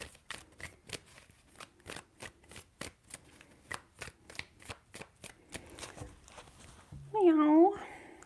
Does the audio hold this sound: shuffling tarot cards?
yes